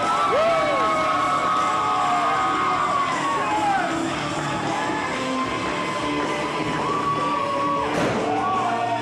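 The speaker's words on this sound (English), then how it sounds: "The sound of the crowd in this arena is absolutely deafening" An arena crowd at a wrestling show cheering, yelling and whooping loudly, a dense continuous roar with individual shouts rising above it and a sharp burst near the end.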